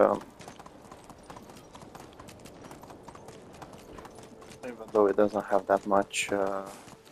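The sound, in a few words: horse hooves clip-clopping, from video game Medieval Dynasty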